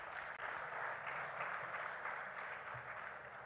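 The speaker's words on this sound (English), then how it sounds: "a round of applause to my panelists" An audience at an oil and gas skills expo applauds the panelists. The clapping is a faint, even, continuous patter that sounds a little distant.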